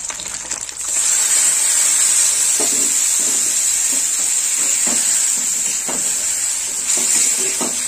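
A spice paste hits fish heads frying in oil, setting off a loud, continuous sizzle and hiss with occasional stirring clinks up close.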